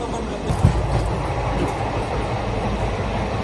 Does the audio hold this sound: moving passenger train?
yes